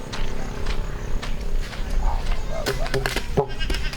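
Several goat bleats sound amid outdoor noise and people talking in Calatagan, Batangas, with a few short wavering calls toward the end.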